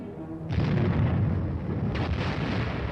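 Air bursts from a battalion of 105mm howitzers land as a heavy rumbling barrage: a loud boom sets in and holds as a sustained roar, with a second blast rising near the end, no voices.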